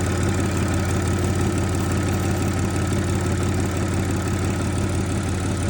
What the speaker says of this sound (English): it doesn't sound great. And I did notice it's not the belt from the engine, it is the supercharger belt